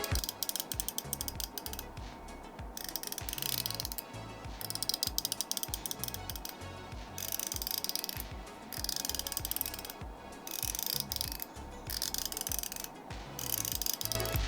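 Rapid ratcheting clicks from a 01EDC Game Cube mechanical fidget slider, coming in repeated bursts with short pauses between, close and crisp throughout.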